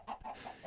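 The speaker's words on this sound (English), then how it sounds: "Okay, now I can see the chickens." Short Minecraft chicken clucks repeat several times in quick succession, soft and close, with no other sounds.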